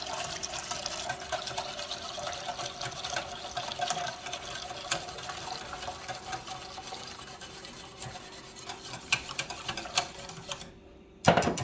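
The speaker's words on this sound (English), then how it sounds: "I am going to add my 3 cups of whole milk. And I'm just going to whisk it in." Whole milk whisked into a flour roux in a pan, with a rapid, continuous liquid tapping and swishing as the whisk beats against the pan, close and steady, ending in a short pause and a clunk.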